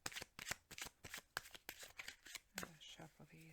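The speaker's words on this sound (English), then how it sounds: "Shuffle these." Rapid riffling clicks of tarot or Kipper cards being shuffled in quick bursts, close up, followed by a few softer handling sounds.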